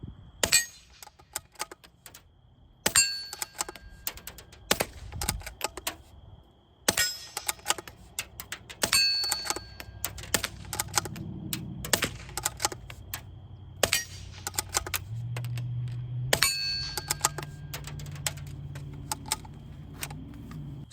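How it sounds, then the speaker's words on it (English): Suppressed Rock Island Armory 14y .22lr pistol shots fired outdoors into dirt and at steel targets, a series of sharp spaced cracks, several ending in bright metallic rings from hits on steel. "you can hear the sound differences between shooting into the dirt and shooting at the steel"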